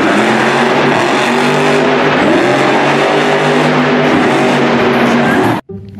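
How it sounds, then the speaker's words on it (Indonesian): A toy monster truck revs with a loud, sustained engine roar and whining tones for over five seconds, then stops suddenly. "Mobil monster, teman-teman."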